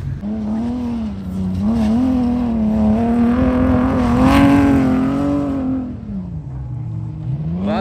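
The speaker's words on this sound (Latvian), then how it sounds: "Accelerating and some power clutching." An Audi 1.9 car accelerates hard on a race track, its engine loud and close with a steady revving drone that rises, holds for several seconds, then drops off as the driver eases and shifts.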